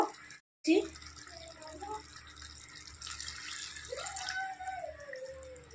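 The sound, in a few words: warm water being poured into potol shrimp curry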